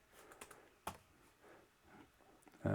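Soft, quick tapping on a computer keyboard, faint and irregular, with a few sharper key clicks and a louder knock at the very end.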